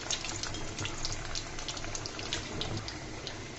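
Pakon pitha snacks fry three at a time in hot oil in a small pot, producing a continuous bubbling, crackling sizzle with scattered pops, close and fairly quiet, with no voices.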